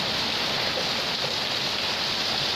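Heavy rain driven by strong wind, a dense, steady roar of hiss and spatter that stays loud and unbroken throughout, with no voices.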